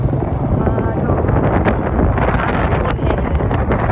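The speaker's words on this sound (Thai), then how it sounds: "ฟ้าลมมาแท้ว่ะ" A strong storm wind blows hard against the microphone as rain approaches: a loud, constant roaring rumble with gusty buffeting that runs through the whole stretch.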